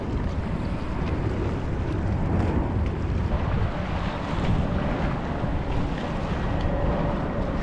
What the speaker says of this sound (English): Some more waves coming in